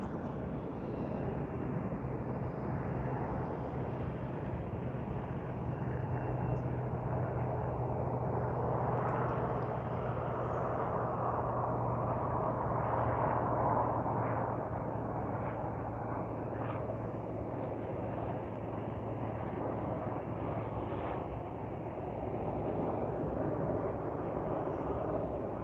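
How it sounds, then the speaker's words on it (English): A WestJet Boeing 737-800 on service to Honolulu at Vancouver International Airport gives a steady, sustained jet engine roar with a low hum, holding an even, fairly distant level throughout without talk. "The WestJet in frame is WestJet flight WS1864 with service out to Honolulu, operated with a Boeing 737-800 aircraft."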